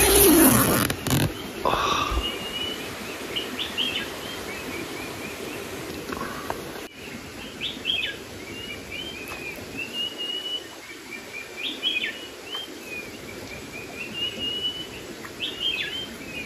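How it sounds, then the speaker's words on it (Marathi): Birds chirp at dawn beside a campsite after a night of rain. Short, scattered calls repeat throughout at moderate distance over a steady outdoor hiss, with a brief louder rustle near the start. "पाखरांचा आवाज येतोय"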